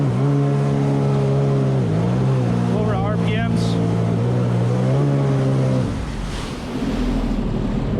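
A Sea-Doo Spark Trixx jet ski engine accelerates on open water, its loud droning note climbing steadily and then dropping into wind and water rush, with a voice talking over it.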